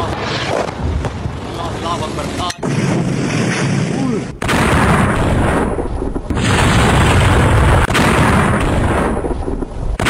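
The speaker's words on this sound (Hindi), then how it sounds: "पाकिस्तान में एक के बाद एक आतंकियों के ठिकाने पर मिसाइल आकर गिरी।" Heavy, continuous rumbling blasts and booming missile explosions, loud and close, with abrupt cuts between bursts of roaring noise.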